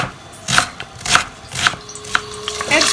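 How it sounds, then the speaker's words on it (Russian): A knife chops an onion on a board for homemade lasagna, with about six close, evenly spaced cuts landing roughly every half second. "вот так быстренько я нарезаю свой лук, абсолютно произвольно."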